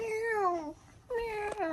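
A cat meows twice at a closed door, two drawn-out, wavering cries separated by a short pause, close and clear with no talk over them.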